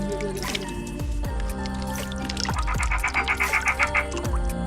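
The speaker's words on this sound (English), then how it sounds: "simply enjoy the soothing sound of flowing water" Water from a hiking-trail stream at Wangedigala near Ella, Sri Lanka, trickling and gurgling steadily nearby, with bubbling drips and splashes over a constant low rushing background.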